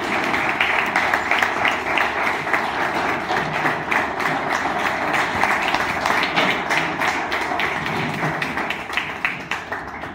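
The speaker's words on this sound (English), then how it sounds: "please give him a hand of applause" An audience at a business district annual meeting applauds a retiring colleague, with dense and steady clapping that holds at an even level for about ten seconds, fairly loud and with no voices over it.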